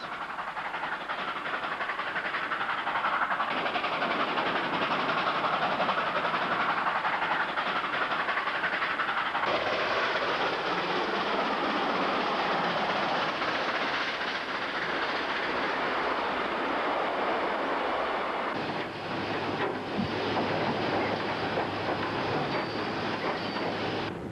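Continuous chugging and rumbling of the R761 steam locomotive running, a steady loud mechanical roar with rail clatter, no voices.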